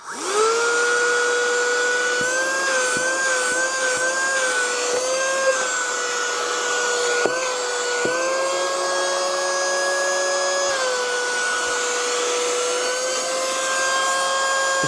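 A small handheld cordless vacuum cleaner with a single speed runs loud and close, a steady whining motor tone that dips briefly several times as the nozzle is moved around, with no talking.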